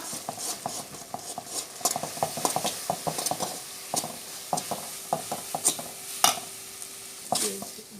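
Maida flour stirred into boiling water for potato ring vadai, heard as irregular close scraping and knocking strokes of a spoon against the pot over a low hiss.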